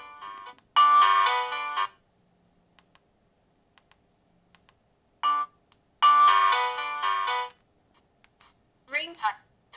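Ringtone melody from an HMD 105 4G phone in two bursts, each a short bright tune of several seconds, with a brief chirp between them and faint clicks trailing off.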